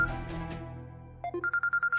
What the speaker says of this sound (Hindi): जुनैद का फोन।